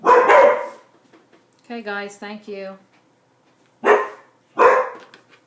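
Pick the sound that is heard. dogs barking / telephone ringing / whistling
dogs barking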